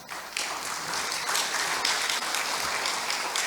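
Audience applause in a hall during a Sunday Won Buddhist service sermon, a short steady burst of clapping, moderately quiet and heard alone.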